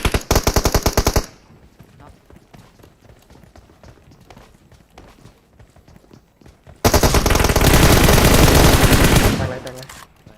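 Gunfire in the mobile battle royale game PUBG Mobile: a rapid automatic burst opens, then lighter rattling shots and footsteps, before a long, loud sustained stream of automatic fire dominates, with a voice briefly heard.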